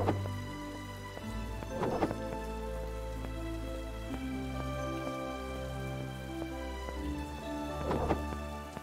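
Steady rain patters in the video game Mask of Mists, a soft continuous shower layered under sustained game music with occasional faint thumps.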